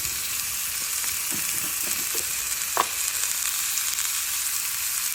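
Tempering for potlakaya yogurt chutney frying in hot oil: a steady, bright sizzle hissing throughout, with a few small pops and crackles, close and continuous, no talking.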